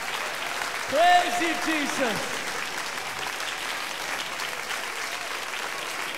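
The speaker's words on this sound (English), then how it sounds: "let's clap our hands, all you people" A worship congregation claps hands steadily throughout, a dense even patter of many hands at moderate distance, while a voice calls out praise briefly near the start.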